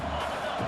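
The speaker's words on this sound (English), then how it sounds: "Listen to the crowd energy here in the early going." A stadium crowd at an American football game roars in a dense, steady wash of noise that stays loud from start to finish.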